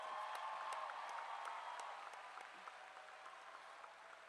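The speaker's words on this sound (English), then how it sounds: "That deserves a round of applause" Applause from the audience at the Indian River High School Class of 2022 graduation ceremony, a steady, moderately distant wash of many hands clapping that holds for several seconds and eases slightly toward the end.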